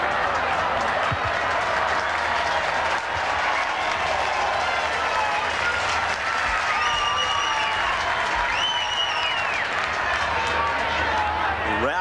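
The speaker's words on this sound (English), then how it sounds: "Rousing applause for Noel Cleal after playing so very well for his team" A 1985 rugby league stadium crowd at Manly Sea Eagles versus Canterbury Bankstown Bulldogs gives rousing, sustained applause for Noel Cleal, a broad wash of clapping and crowd noise with a commentator talking over it and some whistling.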